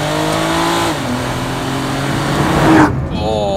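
A 2024 Nissan GTR T-Spec engine revs hard under acceleration, a loud rising roar that climbs toward the redline before a sharp shift, heard close and steady throughout.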